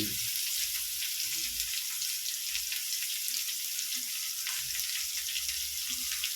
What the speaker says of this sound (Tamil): கடுகு எண்ணெய் ஊற்றி கடுகு பொரிஞ்சிடுச்சு சொர்க்கா போடுறோம்